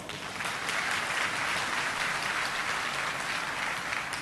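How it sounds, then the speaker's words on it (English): Audience at a leadership talk gives a sustained round of applause, a thick, even crowd of clapping hands heard alone at steady loudness. "Please give me a round of applause."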